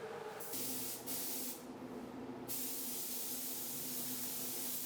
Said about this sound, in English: So I'm going to apply my wet bed blender again